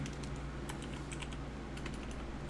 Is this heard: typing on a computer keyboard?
yes